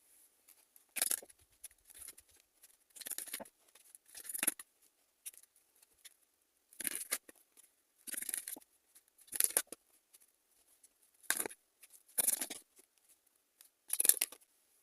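Tarot cards are shuffled by hand in about a dozen short, crisp bursts of papery riffling and slapping, close to the ear, with quiet gaps between them and no speech.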